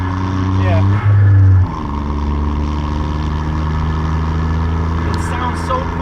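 A 1992 Suzuki Cappuccino's small turbocharged engine holds a steady, buzzing drone as the throttle is worked, with a brief louder surge early on, while people talk nearby.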